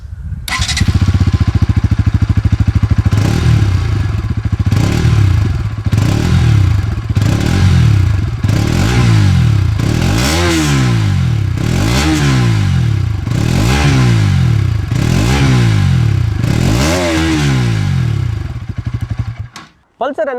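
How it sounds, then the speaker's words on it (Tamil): A 2021 Bajaj Pulsar NS200 BS6 with a 199.5cc liquid-cooled single-cylinder 4-valve engine and underbelly exhaust revs loudly and up close, with about nine sharp rising throttle blips over a steady idle before cutting off abruptly. "NS200ஓட எக்ஸாஸ்ட் சவுண்ட் எப்படி இருக்குன்றதை பார்த்துடலாம்."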